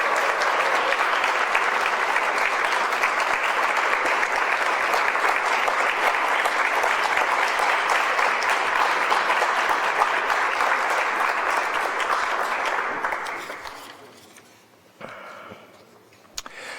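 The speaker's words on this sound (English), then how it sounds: "Let's have a round of applause." Audience at an awards ceremony in a room giving sustained applause, a dense steady clapping that holds for about thirteen seconds before fading out into scattered claps and quiet.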